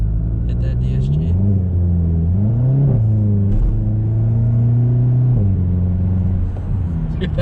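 Volkswagen MK7 GTI Clubsport with an aftermarket muffler, a deep droning exhaust note close by that rises and falls through several revs, with some voices over it.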